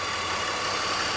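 A BMW 330xi engine, leaking and smoking with the coolant light on, idles in a steady, even drone at constant loudness, close by with no voices over it.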